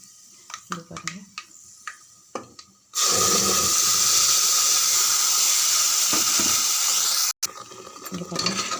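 Sautéed curry leaves are crackling when a ground paste drops into the hot pan, setting off a sudden loud, dense sizzle that holds for several seconds before cutting out, with softer stirring clatter before and after.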